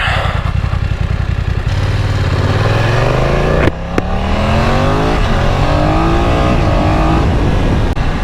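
BMW F900XR motorcycle ridden in dynamic mode on twisty roads, engine loud and close as it climbs through gears with rising revs and one quick shift break, steady wind and road noise underneath, no talk.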